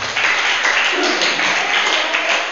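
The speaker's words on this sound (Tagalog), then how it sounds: "Palakpak sa Panginoon." Church congregation applauding during a sermon: steady, dense clapping from many hands fills the room for a couple of seconds at an even, fairly loud level, with no pauses.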